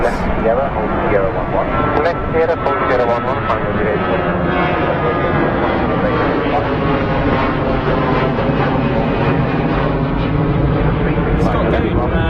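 An airliner departs runway 09 right at London Heathrow, its engines making a loud, close, continuous roar that holds steady throughout, with shifting whining tones layered over the broad rumble.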